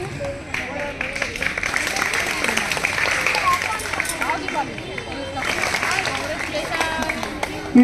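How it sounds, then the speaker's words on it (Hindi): Applause for students at a school award ceremony, with steady clapping from a crowd mixed with hubbub and background chatter throughout. "जोरदार तालियां बजाइए।"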